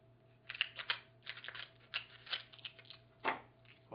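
Kitchen shears snipping through cooked lobster knuckle shell, a quick run of sharp crisp cuts and crunches close by, with a louder final snip near the end.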